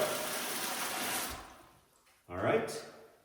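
Water gushes steadily from an outdoor spigot on a copper pressure washer plumbing setup for about a second, then cuts off, and a person speaks over a rougher rush afterward.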